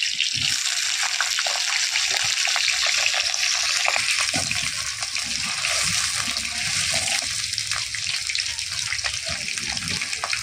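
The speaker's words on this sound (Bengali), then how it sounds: "আলুটা দিয়ে দিলাম আলুটা একটু ভালো করে ভেজে নেবো" Potatoes frying in hot oil in a village kitchen, a loud steady hiss and sizzle with crackling pops, continuous and close throughout.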